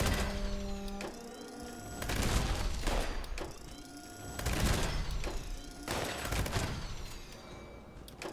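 Repeated explosive gunfire from a gun with an explosive effect in the video game Fallout 76, heavy booming bursts in several clusters with ringing tails, loud and close.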